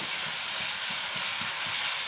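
A steady, loud sizzling hiss of crushed chili paste sautéing in hot oil, continuous throughout with no voices.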